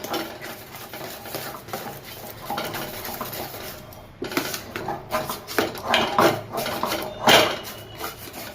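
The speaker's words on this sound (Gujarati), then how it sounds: "આવી રીતે તવીથાથી સતત હલાવતું રહેવાનું એટલે તળીએ સોંપે નહીં" A spatula scrapes and knocks steadily around a pan as gulab jamun mixture is stirred over low gas, close up, with scraping strokes growing busier and louder toward the end and no voices.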